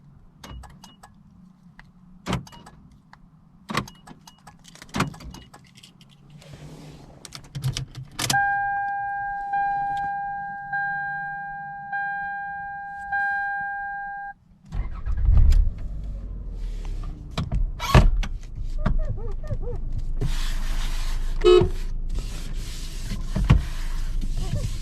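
A 2000 Toyota Camry LE: door clicks and key jangling, a warning chime repeating in steady beeps, then the engine cranks and starts and settles into a steady idle before pulling away, heard close from inside the cabin.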